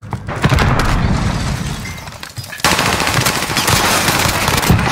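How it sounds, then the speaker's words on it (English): Rapid bursts of automatic gunfire in a video game shootout, loud and dense throughout, with a brief lull near the middle before the firing resumes heavily. "They're pushing in. I'm taking fire!"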